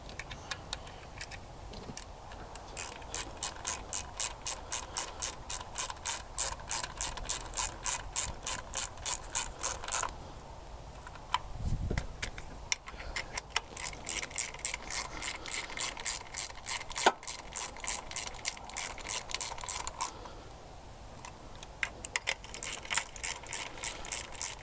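A ratchet wrench drives 10mm valve cover screws on a 1.8 Toyota Corolla, producing rapid steady clicking in long runs with two short pauses, close and clear, no talk.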